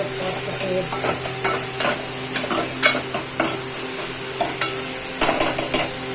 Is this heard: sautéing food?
yes